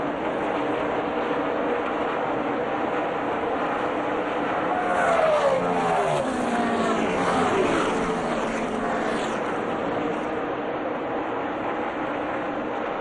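NASCAR stock cars race at Texas in 2008, a dense engine roar from the field with a louder car sweeping past midway, its pitch dropping as it goes by.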